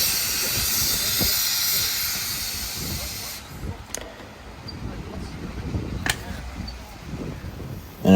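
A miniature live steam locomotive at a model engineering society track hisses loudly and steadily nearby, then fades somewhat as it moves off with soft chuffing and faint background voices.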